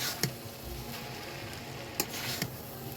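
Noodles and vegetables being tossed and mixed in a pan, a soft steady sizzle with a few sharp clicks of a utensil against the metal, quiet and close, with no talking.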